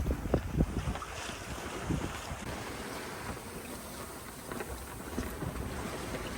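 Wind rushing past a sailboat at sea during a solo sail from Italy toward Slovenia, a steady broadband blustery roar over the microphone with faint water wash beneath, continuous and close.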